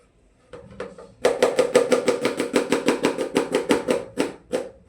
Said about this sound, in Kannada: ಈರುಳ್ಳಿ ಕಟ್ ಮಾಡ್ಕೊಳ್ಳೋದು